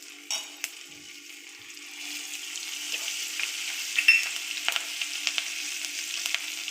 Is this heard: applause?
no